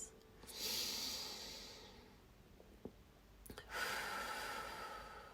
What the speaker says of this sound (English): And continue to take some deeper breaths